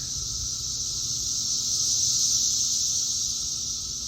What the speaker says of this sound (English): I was curious just how loud that the cicadas actually are.